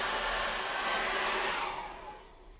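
A hair dryer blowing on a corner of an acrylic landscape painting, a loud steady close whoosh that fades away as the dryer is switched off.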